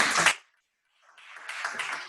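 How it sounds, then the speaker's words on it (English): Audience members at a Rotaract Club installation ceremony clap for the outgoing president: a short burst of applause cuts off into a brief silence, then clapping swells back up and grows fuller and louder. "I think we need to clap a little bit louder for President Pauline."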